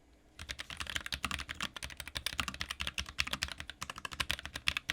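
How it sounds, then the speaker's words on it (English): Fast, continuous typing on a low-profile mechanical keyboard, close up, with quick crisp clicky keystrokes in an uneven rapid rhythm. "The keys are silent and still provide that satisfying click sound"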